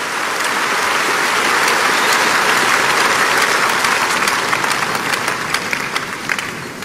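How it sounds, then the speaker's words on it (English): Church congregation clapping steadily and loudly, a dense sustained burst of applause filling the space for several seconds without talk. "I can see you want to clap. Do it very well for the Lord,"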